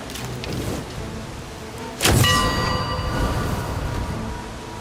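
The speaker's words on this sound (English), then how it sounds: "I can hit the bell." A bell struck in a video game rings out once with a sharp, clear hit, followed by a sustained metallic tone that fades slowly over a continuous ambient backdrop.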